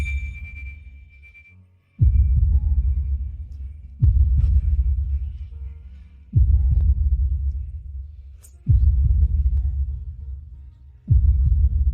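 A slow, heavy heartbeat sound effect with five deep, evenly spaced thumps, each throbbing low and loud before fading under a faint hum.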